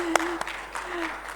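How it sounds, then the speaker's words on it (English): Audience applause in a hall at a microfinance technology summit, a short burst of clapping with a few sharper claps, heard alongside a steady tone and a faint voice. "You guys want to clap for him?"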